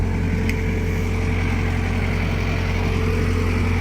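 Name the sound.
old Thomas T320 track loader engine running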